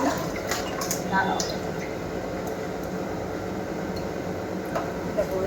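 Palm fruit fritters frying in hot oil in a wok, a steady bubbling sizzle with scattered pops throughout, while someone talks over it.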